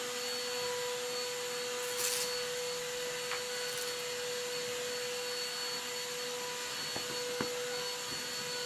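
A vacuum cleaner runs steadily for a quick spot clean at a tabletop gaming session, a constant whirring drone with a high whine and a few faint knocks, no talking.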